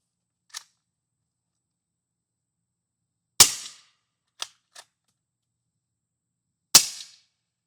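Several sharp, muffled suppressed bolt-action rifle shots through a Nomad 30 suppressor ring out in quiet surroundings: two loud cracks with a few smaller, clipped pops between them, each fading quickly.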